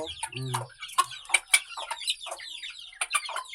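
Close clucking from chickens, quick choppy calls overlapping one another with a low, drawn-out cluck near the start.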